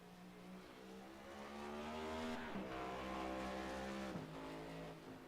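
Race car engine from a sim racing game on a qualifying lap at the Charlotte Roval, a loud sustained whine with rising and falling harmonics and two sharp gear-shift dips as it accelerates.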